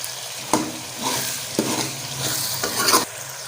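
Green beans and boneless chicken stirred and fried together in a pan, loud close scraping strokes repeating roughly every half second over a continuous sizzle.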